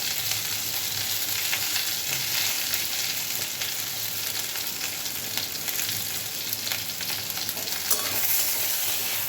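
Red lentils fry in a hot pan with turmeric and salt while a spoon stirs them, giving a continuous soft sizzle with steady scraping and no voices.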